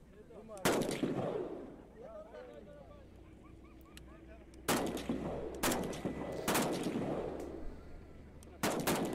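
Rifle shots fired at a target ring out four times at uneven intervals, each a loud, sharp crack with a ringing tail, while people talk quietly in the pauses between shots.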